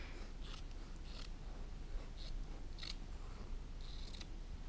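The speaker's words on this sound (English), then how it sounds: "take my scissors and just cut somewhat evenly in between my panel" Scissors cut through a fabric panel, a series of regular crisp snips close by over a steady low hum of room noise.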